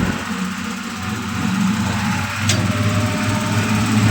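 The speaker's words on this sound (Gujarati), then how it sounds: "જોઈ શકો છો ટ્રેક્ટરનો અવાજ બદલી ગયો છે મિત્રો." A tractor pushes through a waterlogged, muddy farm field, its engine giving a close, loud, steady drone that holds throughout with a slight rise in strain partway.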